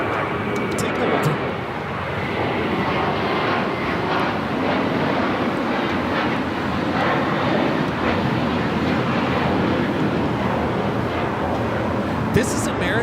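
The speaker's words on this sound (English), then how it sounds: "274 taking off to JFK on the A321" An American Airlines Airbus A321 taking off from Los Angeles LAX for JFK, a loud, sustained jet engine roar rolling on steadily at close range, with talk running underneath.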